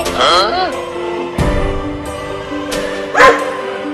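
A cartoon dog barks and yips in a few sharp bursts while chasing, close and loud, with animated character voices and effects running around the barks.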